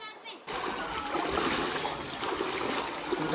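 Fast, cold water rushing out of Robbers Cave, a loud continuous splashing and gushing that starts abruptly and then holds steady, close by and full, with no voices over it.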